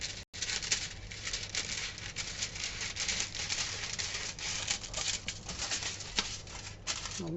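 Dense, close crinkling and rustling of aluminium foil being handled and folded for cold embossing, continuous crackle with a few sharper snaps.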